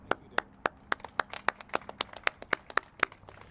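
A few people clap at a governor's announcement of Waterfront Park expansion funding. The claps are sparse and distinct, around fifteen sharp hand slaps in an uneven rhythm, fairly quiet against a hushed room.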